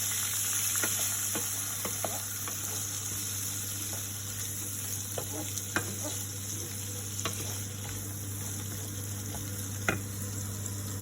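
Mixed vegetables, including cauliflower, green peas and fresh beans, frying in a pan for coconut milk rice, making a constant sizzle with scattered clicks and scrapes of stirring.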